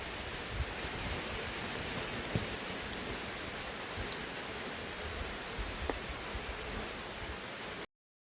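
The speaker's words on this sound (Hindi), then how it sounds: "आखिर में बारिश आ ही गया।" Steady rain pours at night near a forest beside the railway at Valmiki Nagar, an even, dense hiss with occasional faint drips and ticks, continuing without voices until it cuts off abruptly.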